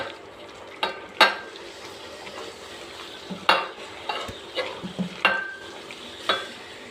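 Prawn shell paste is mixed with chopped onion, with a handful of sharp scraping and tapping knocks at irregular intervals over quiet background noise.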